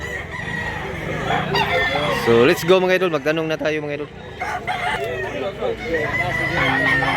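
Chickens and roosters on a farm cluck and crow throughout, with one clear, drawn-out rooster crow in the middle, close and loud, under someone talking.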